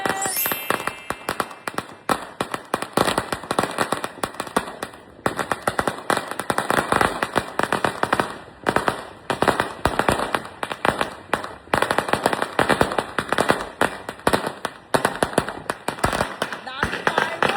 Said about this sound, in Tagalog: Dami fireworks!